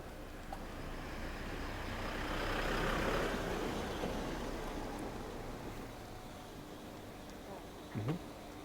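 A truck rumbles past on a city street in Chiang Mai, its engine noise swelling and fading as it goes by, with a brief higher tone near the end.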